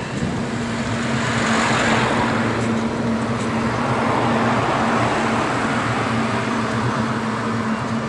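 Busy roadway traffic in Provence, a steady close rumble of passing cars and vehicles with a constant low engine hum and broad road noise throughout, no talking.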